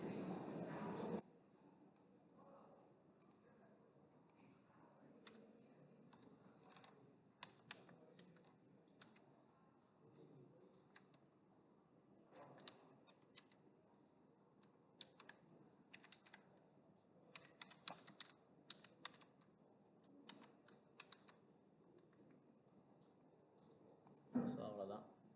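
Someone types commands on a computer keyboard, with soft scattered key clicks in irregular bursts across a long stretch, faint and close.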